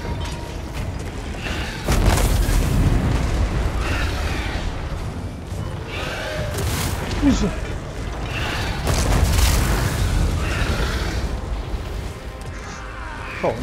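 Battle sounds from Total War Warhammer 2, with cannon artillery firing and booming explosions amid mechanical clanks and creaks, rumbling steadily throughout while someone talks over the action.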